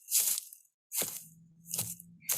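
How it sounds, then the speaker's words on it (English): Footsteps crunching through dry leaves as a spooky sound effect made with instruments for young children; three or four separate crisp rustling crunches, close and fairly quiet, with a faint low hum between them. "We have footsteps in leaves."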